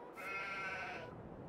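Sheep bleating in the farming game Farming Simulator 22, a single drawn-out bleat of about one second, clear and fairly close, with no talk.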